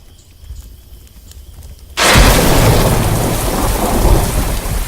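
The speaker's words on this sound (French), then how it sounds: "Il pleut." Quiet low rumble, then a sudden heavy downpour of rain with a thunderous roar sweeps in and continues steadily, loud and close, in a French-dubbed western film.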